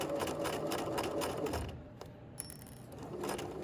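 A domestic sewing machine stitches a single-pointed dart in fabric, a steady, close mechanical whirring and ticking that slows and pauses briefly midway, then resumes.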